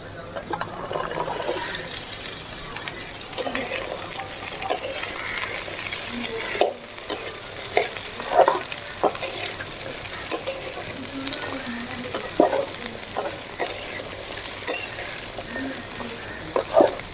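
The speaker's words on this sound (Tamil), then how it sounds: "இப்போ நம்ம இந்த வெண்டைக்காயை அதில் போட்டுக்க நல்லா வதக்கிடலாம்" Okra stir-frying in oil with sautéed onions, a dense close sizzle with frequent spatula scrapes and clatter against the pan throughout.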